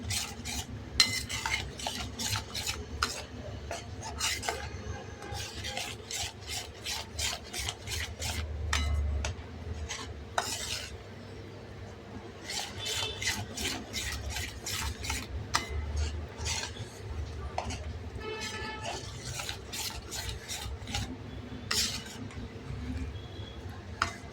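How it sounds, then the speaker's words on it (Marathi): Moong dal roasting over a low-to-medium flame while a metal spoon stirs and scrapes the pan, giving repeated sharp clinks and rasping strokes over a soft continuous background, close and steady throughout. "असं बारीक गॅस मंद लो टू मीडियम फ्लेमवर आपण छान मुगाची डाळ भाजून घेणार"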